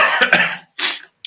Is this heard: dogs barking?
no